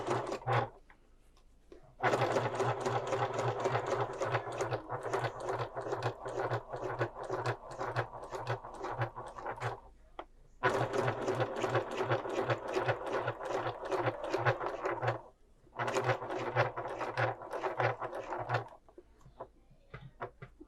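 A sewing machine stitches through thick layers of fabric in the ditch while making a scrap-fabric color book, running in three long bursts with brief pauses between them, close and steady.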